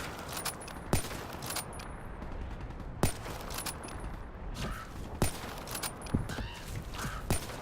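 Repeated gunshots fired through a wall in a video game, sharp single reports spaced irregularly over a steady background of game ambience, moderately loud.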